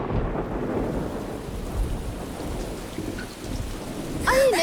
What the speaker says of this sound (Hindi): यहाँ तो बारिश शुरू हो गई